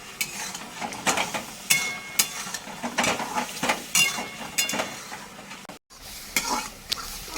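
Mango chutney stirred in a pan, with steady scraping and clinking strokes against the metal and a faint sizzle, close and continuous apart from a brief gap.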